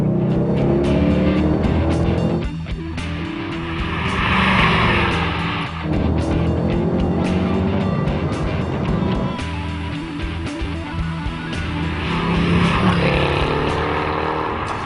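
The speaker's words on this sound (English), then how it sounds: "complete with the soothing rumble of the V8" A Mercedes-Benz E63 AMG with a large V8 cruises along, its engine a continuous deep rumble that swells and eases slightly with speed, mixed under background music.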